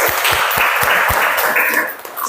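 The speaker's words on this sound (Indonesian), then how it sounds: "berikan tepuk tangan" Classroom audience applause at a teacher training session, a dense continuous patter of clapping hands filling the room, with a few low thumps beneath, fairly loud and sustained throughout.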